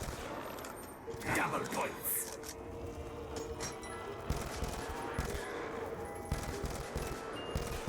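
Bursts of gunfire from a weapon in Call of Duty: Zombies on the Bus Depot map, rapid shots under a dense, steady game soundscape with a voice talking over it.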